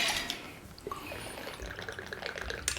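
Three ounces of dark rum poured for a planter's punch, a steady close trickling stream of liquid running for a few seconds with no talking.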